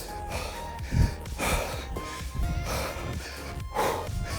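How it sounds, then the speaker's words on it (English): Heavy, deep breaths during a bodyweight home workout, a handful of loud close inhales and exhales in a steady rhythm, with gasping and snorting edges and no words spoken. "Big deep breaths."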